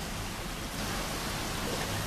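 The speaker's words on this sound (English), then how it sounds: "it's raining out there" Steady rain falling outdoors at night, a dense, even hiss with no gaps or distinct drops, continuous throughout and no voices.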